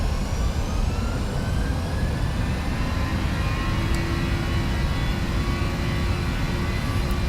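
Aircraft engine held at 50% power before takeoff, a loud steady roar with a constant droning tone that carries on unbroken from start to end, heard from inside the cockpit.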